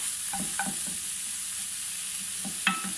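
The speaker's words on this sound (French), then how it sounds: "On est sur un feu doux, on mélange quand même pour pas que ça crame dessous." Vegetables fry in a pan over low heat while being stirred: a steady soft sizzle throughout, with scattered scraping stirs of a utensil, close and without talk.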